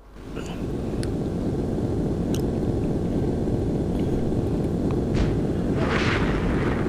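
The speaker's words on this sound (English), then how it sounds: "And we've got a lock and missile away." Missile launch from a Eurofighter EF2000 in a flight video game, a steady loud roaring rush of rocket and jet noise that holds constant for several seconds.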